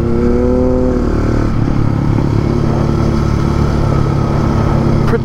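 A Husqvarna 701 single-cylinder motorcycle engine drones steadily while riding through mountain curves, loud and close with a constant buzzing note and a slight pitch change partway through, no talk.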